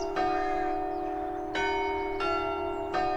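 St. Peter's Church bells chime loud and close at Woodman's Cot near Henfield, West Sussex, several clear strikes a second or so apart, each ringing tone lingering over a steady hum.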